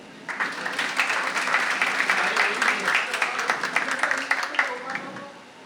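A seminar audience of students applauds steadily, a dense wash of many hands clapping at even loudness for several seconds before tapering off at the end.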